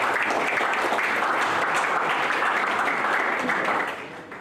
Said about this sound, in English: our guest speakers deserve a round of applause